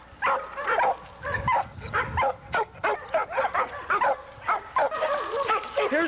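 A pit bull gamedog at a kennel gives a run of short, repeated yips and barks, close and fairly loud, with a faint voice in the background.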